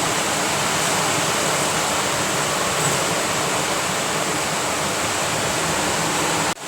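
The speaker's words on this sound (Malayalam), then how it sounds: "കടുക് പൊട്ടി തുടങ്ങിയിട്ടുണ്ട്." Dense, continuous sizzling and crackling of mustard seeds popping in hot oil, a steady close hiss that cuts off abruptly at the end.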